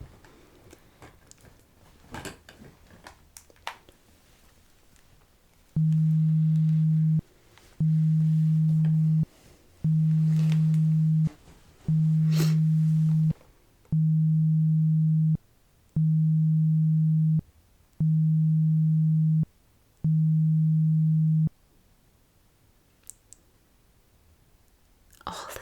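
Eight identical hearing-test beeps of a low steady pitch sound in an evenly spaced row, each about a second long, set against faint soft clicks and rustles in a quiet room.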